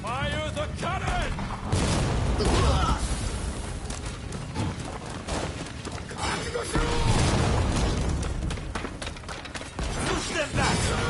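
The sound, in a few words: cannon firing in the video game Rise of the Ronin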